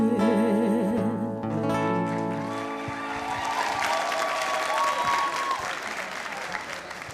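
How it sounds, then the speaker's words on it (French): An audience at a semifinal contest applauds a contestant, a broad wash of clapping that swells and persists while tonal music fades out at the start. "Je vais récupérer la chaise pendant qu'on applaudit pour Sanou Armel."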